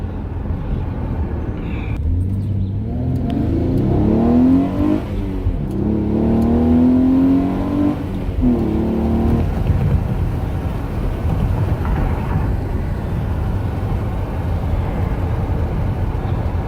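A Hyundai Genesis Coupe with its resonator deleted and a stock muffler accelerates on a freeway merge, with a rising engine drone through the exhaust, wind and road noise inside the cabin, loud and continuous.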